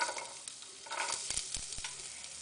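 Garlic and chili hit hot oil in a pan, a quiet close crackle and sizzle with a few sharp stirring knocks against the pan.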